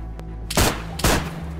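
Two gunshots in the video game DayZ crack about half a second apart, loud and close, after a faint click just before them, with no speech.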